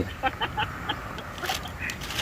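Chickens cluck faintly in short, scattered bursts against a steady outdoor background, with no clear talk over them.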